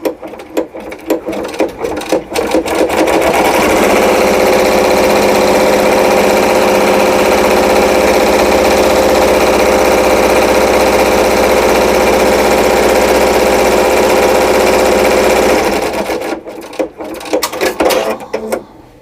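An embroidery machine stitches fabric down onto a quilted hexagon table runner, a loud, steady mechanical whir with a fast needle rhythm that runs for about twelve seconds before stopping.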